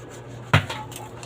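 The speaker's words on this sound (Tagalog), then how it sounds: "Maghuhugas ng pinggan." A single sharp clink of dishes, pots or pans knocking together during dishwashing, close and brief, followed by a fainter rattle.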